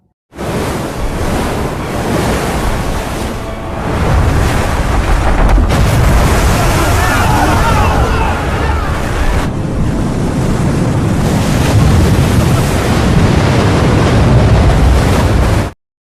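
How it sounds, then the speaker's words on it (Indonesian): Huge ocean waves crash against a fleet of sailing ships in a film scene, a loud, continuous roar of surf and wind that surges heavier partway through, with deep rumbling and no speech. "Ketika sedang berlayar, datanglah ombak yang sangat besar, mengguncang armada kapal."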